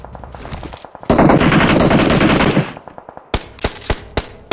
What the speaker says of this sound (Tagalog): Ay, nagbabarilan, no?